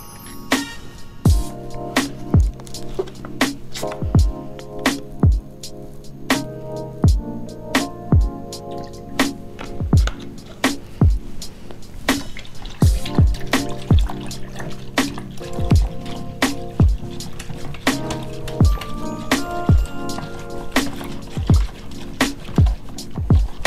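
An egg wash of water, one egg and a splash of milk is whisked in a bowl, giving a steady run of wet, sloshing clicks and taps close up, with no talking.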